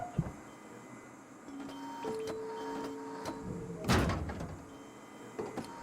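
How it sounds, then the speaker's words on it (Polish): A door swinging open in the survival game Rust, with a sharp burst of creak and rattle near the middle, set among faint mechanical clicks and hum. "Te drzwi te otworzyć."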